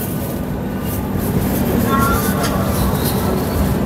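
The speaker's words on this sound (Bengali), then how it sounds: "ট্রেন ঢুকে গেল বিধাননগর স্টেশন" A train pulling into Bidhannagar station rumbles steadily with a low, continuous drone and rail noise, rolling along at a constant level without pause.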